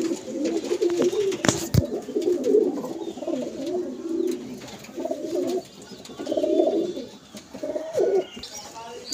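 A male pigeon coos repeatedly, near and fairly loud, in throaty rolling bursts with short gaps between them, and a sharp knock or handling thump cuts in once early on.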